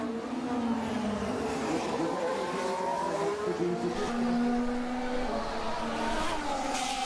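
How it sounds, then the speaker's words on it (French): Onboard engine sound from a Haas Formula 1 car during practice at the Miami Grand Prix: a loud continuous high-pitched engine note rising and falling through gear changes, with commentary voices underneath. "petit audio up en compagnie de la Haas du pilote qui est c'est Magnussen."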